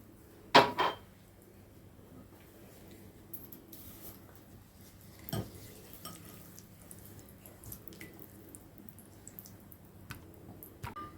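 A glass of semolina is stirred into oil for hira dessert, with a few sharp clinks of utensil against the pot and soft scraping and stirring sounds at close range, mostly quiet between the clinks.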